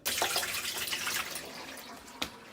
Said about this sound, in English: we're going to put some water in there and rinse it just to see